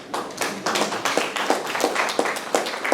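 Audience applause at a digital innovation and sustainability workshop, a steady patter of many hands clapping close by for the full stretch, with no talking over it.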